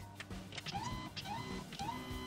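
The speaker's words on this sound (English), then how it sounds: "move the nozzle towards the center using the joggle feature on the printer" A da Vinci 1.0 3D printer jogs its nozzle toward the center, giving a few close, short motor whirs with rising stepper tones in three separate bursts over a steady mechanical hum.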